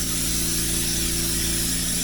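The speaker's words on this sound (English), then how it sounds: "going to spray these 2 pans just like this" A continuous hissing spray from an aerosol can of cooking spray held close to baking pans, steady for about two seconds over a low hum.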